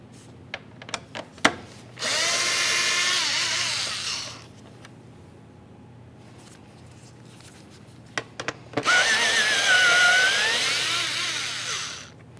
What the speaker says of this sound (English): we'll be using a T25 Torx bit to remove each of our 3 mounting screws